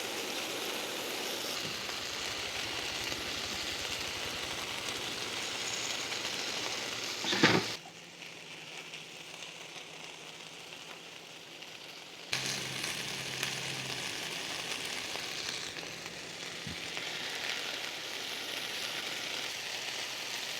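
Beef pieces sizzle in a pan with leftover sauce at a mountain forest campsite, a steady close frying hiss that drops away briefly partway through before resuming.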